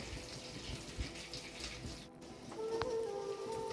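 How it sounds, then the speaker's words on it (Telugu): Water runs and splashes into a container of ground poppy seed milk, a steady gushing pour that grows louder in the final second. "కొంచెం వాటర్ వేసుకుందామండి"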